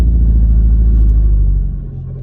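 Skoda Octavia vRS wagon launching hard, a loud, close, steady low engine roar and rumble that fades somewhat toward the end as the car pulls away.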